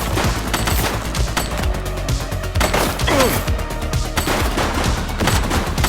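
Rapid gunfire in the police video game The Precinct: dense overlapping bursts of shots cracking near and loud, with impacts, continuing throughout without pause.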